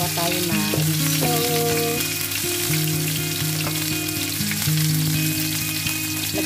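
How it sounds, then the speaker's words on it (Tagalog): Red snapper fish frying in a pan, a loud steady sizzle and crackle of hot oil running the whole time under a bright musical backing, with no talk. "mga ka-angels ang ating prinipritong isda"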